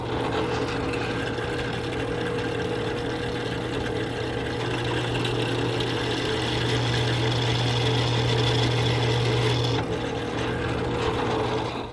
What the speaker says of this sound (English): I'm gonna head over to the drill press